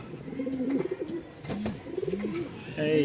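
Pigeons on a farm keeping local and foreign breeds coo in repeated soft, throaty rolls, close by, with some faint background chatter and noise.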